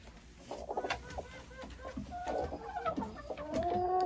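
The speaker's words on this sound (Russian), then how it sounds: "Квочка сидит, ждет яйца." A broody hen sitting on a nest clucks repeatedly in soft, low murmurs nearby, with a few higher drawn-out calls from other birds in the background.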